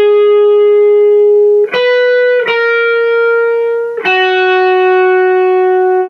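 Distorted electric guitar plays the bridge part of a song: long sustained, heavily saturated chords ringing alone, changing three times with brief gaps between them.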